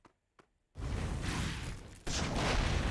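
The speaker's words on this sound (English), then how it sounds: "Okay, there goes Fireball." A Fireball spell cast in the fantasy MMORPG AdventureQuest 3D bursts in as a sustained roaring whoosh after two faint ticks, then swells again with a second loud rush near the end.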